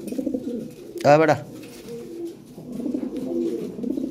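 Lahore Siraji pigeons coo in low, rolling murmurs close by, with a voice cutting in briefly partway through.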